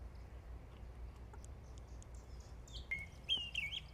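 Birds chirp and call in a butterfly garden after rain, a few short bright tweets coming through toward the end over a steady low outdoor rumble, moderately distant and fairly faint.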